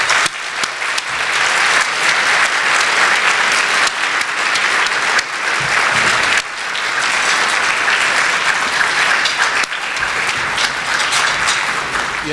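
Sustained audience applause welcoming speaker Shelby Steele at a distinguished lecture, a dense steady wash of clapping from a large crowd lasting throughout with no talk over it.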